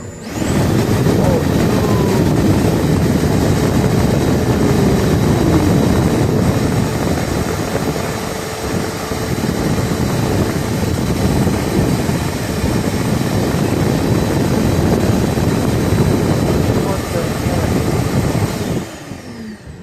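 A body dryer blows a steady, loud rush of air that fills the whole span, dipping briefly in the middle before cutting off near the end.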